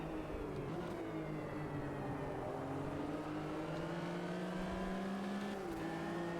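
Simulated Porsche 911 RSR from 1977 racing in a video game, its engine droning steadily with rising and falling pitch as it rolls through a corner, loud and continuous without a break.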